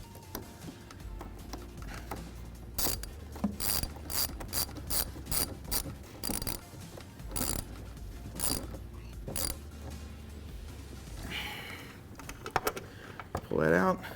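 A ratchet tightens a nut while a Rigid Industries Dually PRO LED spot light is mounted on a Jeep JL Wrangler near the winch. Bursts of rapid close clicking come in runs with short pauses, and a voice speaks briefly.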